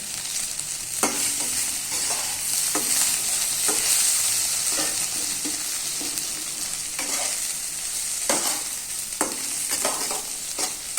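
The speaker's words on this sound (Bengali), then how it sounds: "আমার সয়াবিনটা ভাজা হয়ে গেছে" Battered soya chunks fry in a pan with a loud, continuous sizzle, and spatula scrapes and stirring knocks break through at irregular intervals; nobody speaks.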